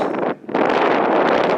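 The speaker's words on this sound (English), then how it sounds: "It's very, very windy out here." Loud, rumbling wind buffets the microphone almost continuously outdoors at Bedrock City in Williams, Arizona, with a brief lull before the gusting roars back.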